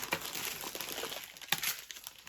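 A plastic postal package from Ukrposhta lost parcels is crinkled and torn open up close, quiet rustling with a couple of sharper rips around the middle.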